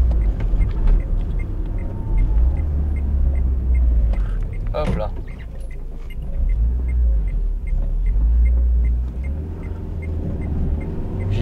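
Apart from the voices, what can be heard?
Renault Twingo driving in the rain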